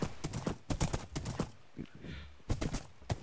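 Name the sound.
horse galloping in Minecraft video game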